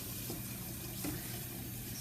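Tap water runs in a steady, continuous stream while dishes are washed, close and even in loudness throughout, with no talking.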